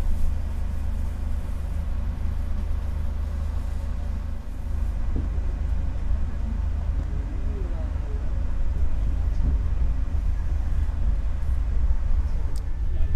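A KA Progo economy train pulls out of Purwokerto station, heard from inside the carriage as a steady, heavy low rumble with faint rattles, continuous throughout.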